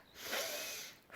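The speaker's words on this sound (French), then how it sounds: "nous allons prendre plusieurs inspirations toniques" A single deep, forceful breath in through the nose, taken as an invigorating guided breath, rises into a close, airy rush that holds for most of a second before easing off.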